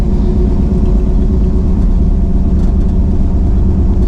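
A Pontiac LeMans engine, freshly fitted with a fuel pressure regulator, drones loudly and steadily from inside the car while driving, with a continuous low rumble and no breaks.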